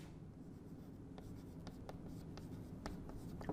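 Chalk or marker scratching on a board during a biology lecture, a string of short faint strokes and taps over a quiet room hum, with no one talking.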